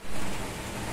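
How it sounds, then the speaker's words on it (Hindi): Heavy rain pours onto a balcony in Kolkata, a dense, steady hiss of falling water that stays loud and continuous throughout, with no voices. "एकदम झमाझम बारिश हो रही है।"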